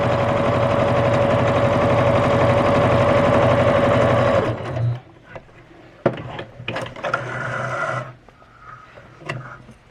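A Juki HZL-K85 beginner sewing machine runs steadily for about four and a half seconds, a loud continuous whirring drone, then stops, leaving a few light handling clicks and thumps.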